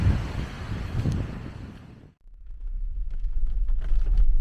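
Gusty storm wind on the Washington coast buffeting the microphone, roaring then dropping out briefly before surging back in heavy rumbling bursts.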